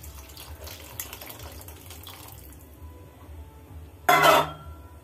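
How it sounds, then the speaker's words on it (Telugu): Tamarind water is poured into a simmering Andhra-style dried fish-head curry with eggs and brinjal, a short close splashing gush near the end after a low, faint bubbling background. "చింతపండు పులుపు వేసుకుందాం. అదే చింతపండు వాటర్."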